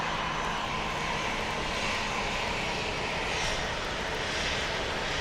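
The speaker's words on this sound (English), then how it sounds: "Watch this plane start moving." Airliner engines roar steadily and loudly as a plane begins rolling at Phoenix Sky Harbor Airport, a broad continuous rushing drone with no voices.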